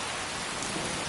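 Heavy rain pours steadily in a Skyrim rainstorm, a dense, loud hiss with a low rumble of thunder underneath, no voices.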